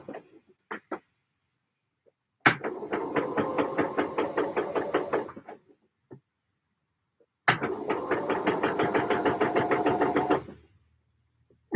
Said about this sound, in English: I am going to go and top stitch